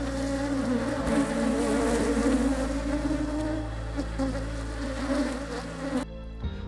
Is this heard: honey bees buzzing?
yes